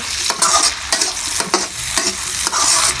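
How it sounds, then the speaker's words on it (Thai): Onion and tomato are stir-fried in a hot pan, giving a loud continuous sizzle with rhythmic scraping strokes of a spatula about every half second, close up and without voices. "ผัดให้หอมนะคะ"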